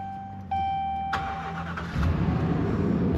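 Car engine cranking and catching on a vehicle being checked after a turbo noise test, a tone and chime first, then the starter's burst settling into a steady medium idle, no talk.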